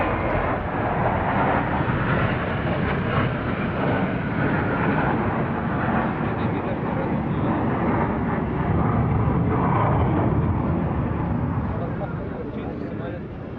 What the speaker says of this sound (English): bombers, the biggest military aircraft in the world, the biggest supersonic aircraft and the biggest swing-wing aircraft